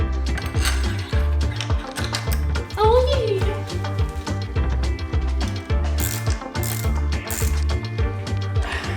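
A torque wrench ratchets as crash protector bolts are tightened on a Yamaha MT-07 motorcycle, with rapid clicking bursts up close, loud, while someone talks throughout.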